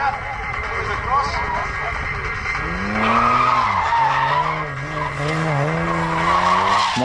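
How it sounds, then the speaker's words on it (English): A ute doing circle work at a Drift Nats round screeches its tyres in a long continuous skid while the engine revs rise and fall, loud and close, with a commentator talking over it. "This ute wasted no time getting into some circle work."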